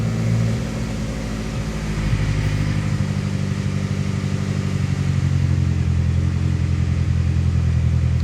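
SOHC turbocharged Honda Civic with a D16 engine idling while warming up, a steady, close, droning hum with an even rhythm and a slight rise in level partway through.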